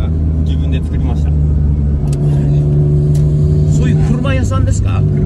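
A modified car with a homemade custom exhaust, built by a body-shop owner, revs loudly and close by in Sendai, Japan, its deep throaty drone rising and holding while several people talk over it.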